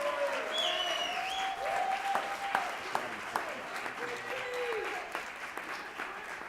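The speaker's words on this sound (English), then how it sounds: "Let's give him another round of applause." An audience at a Black History Month honorees ceremony applauds an award recipient, steady clapping with scattered sharp claps and voices calling out over it, moderately loud and sustained.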